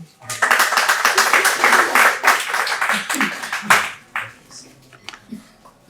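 An audience at a national session of an Iqbal conference breaks into applause as a guest takes the presiding chair, a loud burst of many hands lasting several seconds before thinning into scattered claps and a voice.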